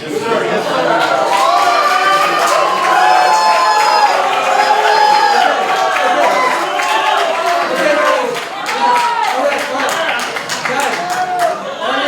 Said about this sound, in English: we're going to ask you if you could just clap and not yell